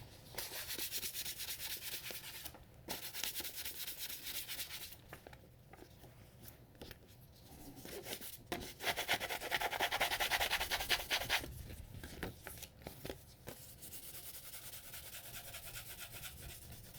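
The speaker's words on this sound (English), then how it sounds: "I feel like I could just hit some sandpaper on the spine." Sandpaper rubs along the spine of a Moritaka gyuto knife to take off small burrs, a steady close scratching that runs on in long continuous strokes with brief pauses.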